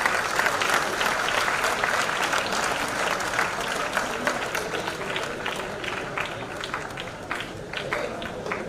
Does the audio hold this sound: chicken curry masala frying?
no